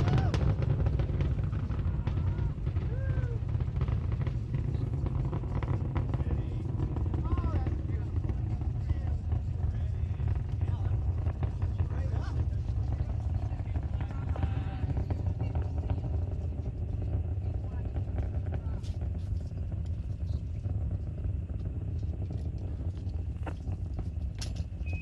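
Space Shuttle Endeavour's main engines and boosters during the STS-47 launch, a steady, dense low roar that fills the whole clip at constant loudness, with a voice faintly audible under it.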